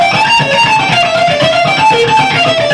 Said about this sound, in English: So let me play it a little bit quicker for you with this pickup so it sounds a little bit smoother.